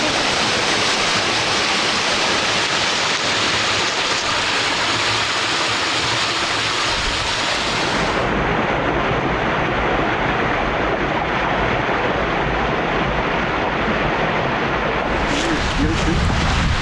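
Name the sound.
waterfall at Spirits Creek Falls, Ozark Highlands Trail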